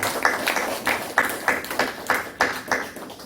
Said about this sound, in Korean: 우리 박수를 하나님께 영광을 드립니다